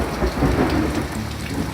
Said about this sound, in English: Nice sound effect there, Thunder.